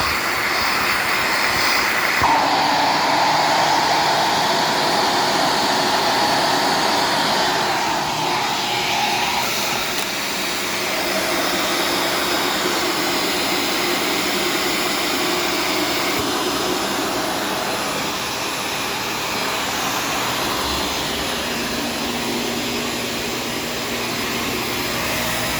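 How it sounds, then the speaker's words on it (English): A Shark Stratos vacuum cleaner running while vacuuming a kitchen floor, a loud, continuous motor whine and airflow roar that holds steady throughout, with slight changes in pitch as it moves. "So now we're going to vacuum the kitchen with it."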